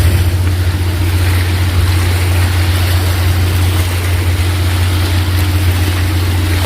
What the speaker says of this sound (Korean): 오 갑자기 여기 파도 소리가 세냐?